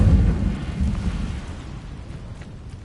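The Incendio fire spell goes off in Hogwarts Legacy: a deep, rumbling whoosh of flame that is loudest at the start and then rolls off into a low, fading crackle.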